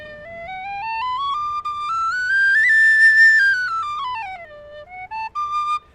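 A Tony Dixon DX001 tin whistle plays a clear, pure melodic line, stepping up to a bright high held note and back down, with brief breaths between phrases, close and fairly loud.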